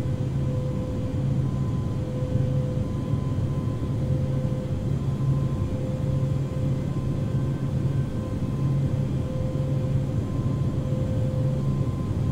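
Airbus A380 jet engines idling steadily while the airliner taxis at Dubai airport in the Infinite Flight Simulator game, a constant low drone with a faint whine, unbroken and fairly loud.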